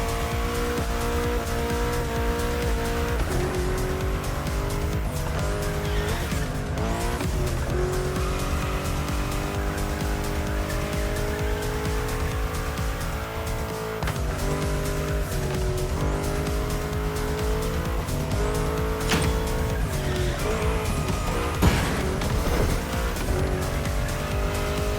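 A car drifting in a racing video game, engine droning steadily while the tires squeal in long sustained skids, loud and continuous throughout with no talk.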